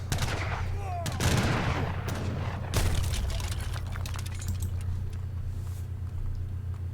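Conquistador gunfire in an Age of Empires match: a rapid volley of sharp, loud shots with irregular cracks clustered early, over a constant low rumble of battle ambience.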